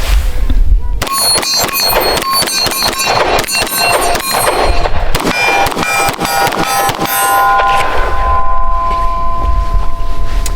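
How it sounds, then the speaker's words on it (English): Repeated gunshots from a Ruger pistol being test-fired at steel targets on an outdoor range, sharp loud cracks in an irregular series with ringing impacts and echoes between them. "So we're going to keep shooting and test some functionality."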